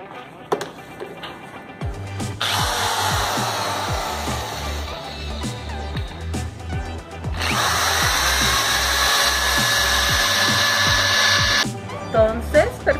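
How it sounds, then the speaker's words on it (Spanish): A power drill bores through a short 45 cm wooden frame piece for a balance-scale model, with two sustained bursts of whining motor and bit grinding into wood, loud and close, while someone talks over it. "Entonces perforamos ya el bastidor que va en la mitad"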